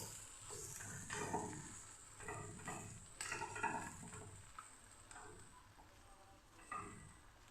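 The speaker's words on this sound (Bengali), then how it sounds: "এভাবে করে ভেজে নিলে ভীষণ টেস্টি হয়" Kanai greens bharta fries in a pan with kalo jeera, giving a faint, soft sizzle broken by a few gentle stirring scrapes.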